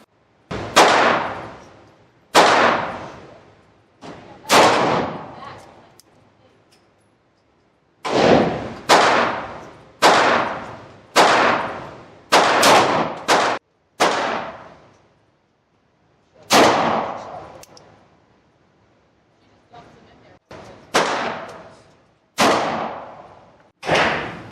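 Sharp gunshots from a Bond Arms Backup .45 pistol at a shooting range, loud cracks with short decays fired in irregular pairs and clusters with pauses between, no talking.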